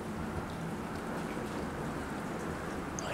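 Monsoon rain pours steadily onto a cement pond, a dense, unbroken patter of drops with a constant wash of noise and no voices.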